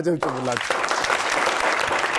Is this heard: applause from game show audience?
yes